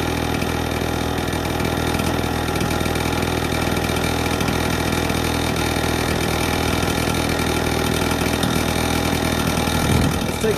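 A World War II PE-210 generator engine idles steadily and close by while warming up on choke, a constant mid-pitched rumble with a faint ticking rhythm and no talk.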